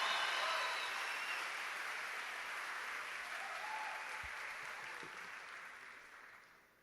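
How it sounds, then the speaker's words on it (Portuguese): A church congregation at a summer vigil bursts into loud, dense applause, a roaring wall of clapping that holds steady and then gradually tapers off toward the end. "eu quero que você dê um aplauso melhor que isso."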